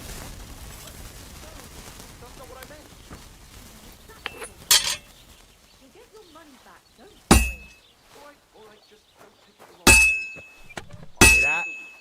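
A hammer strikes hot metal on an anvil at a forge in Kingdom Come Deliverance 2, giving several sharp, ringing clangs spaced a few seconds apart over a quieter backdrop of faint chatter.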